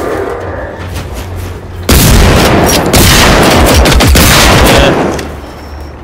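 Machine gun fire in the shooter game Generation Zero: a sudden, loud, dense roar of rapid shots that lasts about three seconds, then fades, with a brief spoken word near the start.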